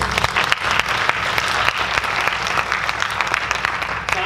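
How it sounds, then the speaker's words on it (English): Audience at a Clarkston community gathering breaks into dense, steady applause, many hands clapping together at close range without a pause for the full stretch. "Let's give a round of applause"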